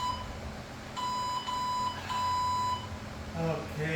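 A workout timer in a garage gym beeps in three sustained electronic tones of roughly half a second each, followed by brief rustling and a faint voice.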